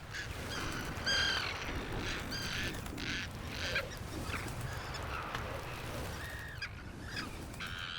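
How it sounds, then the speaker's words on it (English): Arctic terns defending their eggs, with repeated harsh, grating calls from several birds, some near and loud and others fainter, over a steady background of wind and ambient noise. "Arctic terns are prickly foes."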